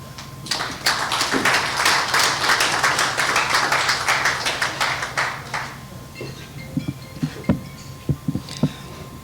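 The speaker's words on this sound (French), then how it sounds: "On va applaudir la présentation" At an official project launch, a modest audience claps after a presentation, a lively few seconds of hand clapping that quickly dies down to a few isolated claps and taps.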